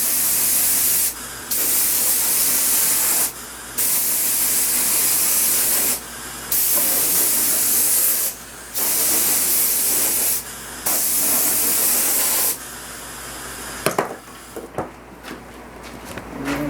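An air compressor's nozzle blows air in repeated loud bursts of hiss during hoop art work, several long blasts separated by short pauses, then stops, leaving scattered handling sounds.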